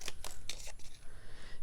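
Scissors snipping through paper while crafting a tea bag card, several quick close cuts in an irregular rhythm with the paper shifted between snips.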